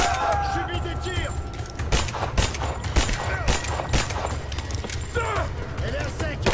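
Rise of the Tomb Raider combat, with rapid bursts of gunfire and sharp repeated shots over a rumbling action backdrop, loud and dense, while voices speak through the fighting.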